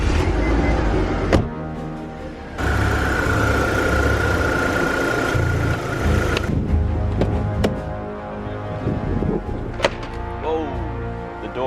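An old cheap BMW engine cranks and catches, then settles into a steady mid-pitched idle with a faint whine, interrupted by a few sharp clicks and knocks nearby.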